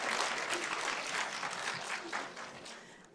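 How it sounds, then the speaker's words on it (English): Lecture audience at the Royal College of Art applauding, a dense steady patter of many hands clapping at moderate volume that gradually thins and fades toward the end. "give Adi another round of applause"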